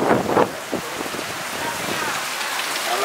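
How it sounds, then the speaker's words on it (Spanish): Steady wash of rain falling, with a few louder splashes or thumps near the start. "Está lloviendo este yo."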